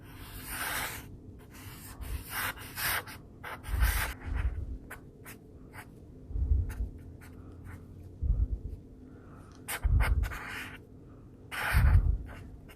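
A pencil or marker scratches across paper in repeated short strokes while a flower is drawn, with a close rhythmic rubbing and brief pauses between strokes.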